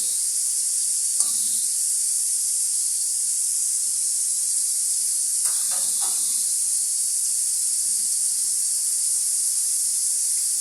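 A steady, bright sizzle of frying noodles fills the clip, continuous and close, with a couple of soft clinks of a utensil against the pan.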